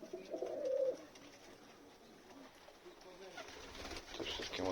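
Pigeons cooing during an evening feeding on a cold, windy day, soft low coos at a distance with light wind and faint outdoor background.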